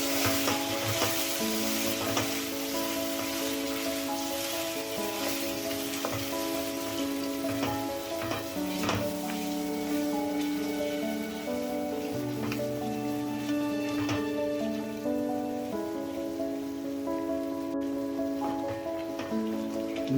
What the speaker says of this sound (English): When you add the fresh coconut milk, keep the flame on high and add very little and keep stirring it